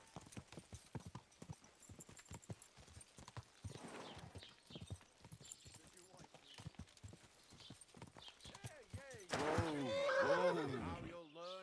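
In the medieval game Kingdom Come Deliverance, horse hooves clip-clop in a steady rhythm beneath talking voices, and a loud, close neigh rises near the end.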